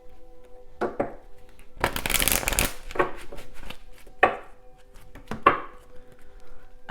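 A deck of oracle cards is shuffled close by in short riffling bursts, with one longer flurry and a few quick snaps between quiet pauses.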